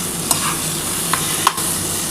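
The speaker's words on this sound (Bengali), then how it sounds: "আলুটার সাথে খুব ভালোভাবে মশলাটা কষিয়ে নিতে হবে।" Fried potatoes with spices hiss and sizzle steadily in a hot pan for a Katla fish curry, with a few light scraping clinks of a stirring utensil cutting through the continuous close frying noise.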